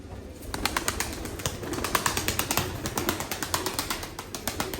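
Mardin Kızıltepe pigeons, a special breed of pet pigeon, make steady, close sounds with repeated rhythmic pulses throughout, with no talk over them.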